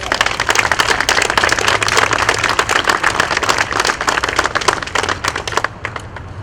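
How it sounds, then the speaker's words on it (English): A crowd claps together in steady applause that holds strong, then thins toward the end. "can we give him a round of applause?"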